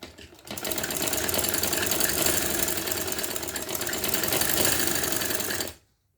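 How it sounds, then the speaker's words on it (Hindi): A sewing machine stitches a strip onto the front of a pair of trousers, running in a fast, steady mechanical whir after a brief start and stopping abruptly near the end, close and alone. "तो इस तरह से लगाएं और यहाँ से सिलाई कर दें।"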